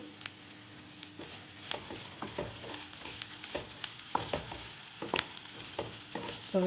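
Onions frying on a medium flame for pepper chicken, a soft steady sizzle broken by repeated clicks and scrapes of a spoon stirring in the pan, close by, with no talk.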